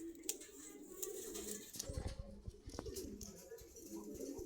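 Pigeons coo softly at Meradia market in Rampura, Dhaka, low repeated calls mixed with bird chirps and market bustle, with people talking nearby.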